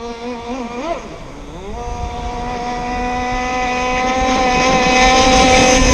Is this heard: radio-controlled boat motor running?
yes